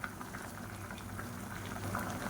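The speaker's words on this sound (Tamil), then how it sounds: "இப்போ நல்லா கொதிக்க ஆரம்பிச்சிருச்சு" Liquid for a mutton dum biryani boiling steadily in a pot, a soft continuous bubbling and simmering hiss, close and quiet with no talk.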